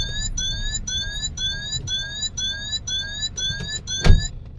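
An in-car warning chime in a 2012 Citroen DS4 repeats steadily, about nine evenly spaced electronic bongs, loud and close over engine hum, ending with a brief thump.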